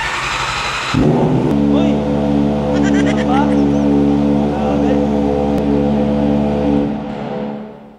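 A Kawasaki ZX4RR motorcycle, idle for six to seven months, starts on the first press of the button and settles into a loud, steady idle through a full-system exhaust, after a brief cranking whir and a short exclamation.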